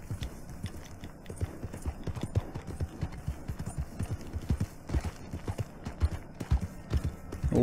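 Horse hooves clip-clop in a steady walking rhythm in the video game Red Dead Redemption Online, the close, moderately loud hoofbeats continuing alone without talk, with faint ambient background.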